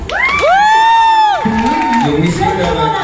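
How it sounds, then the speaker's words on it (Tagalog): Lively audience cheering with rising and falling whoops and shouts in a lounge setting, loud and close, a crowd roar swelling around the high voices. "Palakpak muna."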